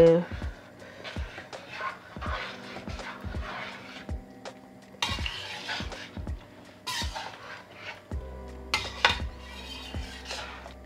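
A spoon scrapes and clinks in a pot while chicken curry is stirred after coriander leaves are added, with a steady run of sharp metallic taps under a voice talking throughout.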